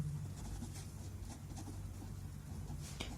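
Pen or marker scratching on a surface in short, faint strokes during a class 11 maths lesson on mathematical induction, with a steady low hum underneath.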